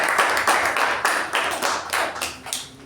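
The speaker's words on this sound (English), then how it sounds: "I think we should give a big round of applause for him." A crowd at a Toastmasters club meeting applauds steadily, dense overlapping hand claps filling the room for a few seconds before starting to thin out.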